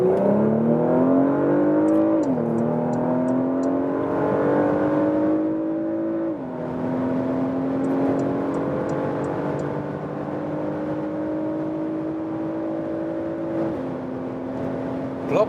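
A Porsche Macan S with a 2.9 liter V6 accelerates from low speed on a German motorway, its engine note climbing steadily through several upshifts, each marked by a brief dip in pitch, under constant road and wind noise.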